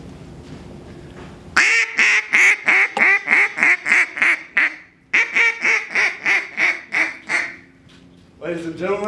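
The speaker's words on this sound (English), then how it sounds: "that is the sound of a good duck call that doesn't break the bank" A duck call blown on stage at a startup pitch competition gives a long run of loud, rhythmic quacks in two bursts, each a string of about eight to ten sharp honking notes, with a brief pause between and a voice starting at the end.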